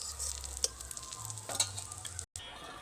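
An egg and flour snack fries in hot oil, giving a soft steady sizzle with a few light scraping and clinking taps of a utensil, fairly quiet and close.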